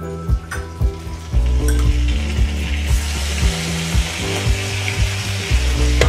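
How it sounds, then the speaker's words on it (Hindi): Butter and ginger-garlic paste fry in a hot kadhai over low gas for shahi paneer, making a loud, close, continuous sizzle broken by rhythmic scraping and knocking strokes. "हम गैस को स्लो कर देंगे और इसमें अदरक लहसुन का पेस्ट डालेंगे।"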